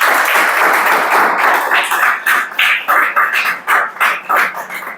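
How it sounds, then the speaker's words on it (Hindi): Classroom audience clapping together, first a dense burst of applause that then settles into a rhythmic unison beat of roughly a dozen loud, evenly spaced claps. "ताली बजाओ के"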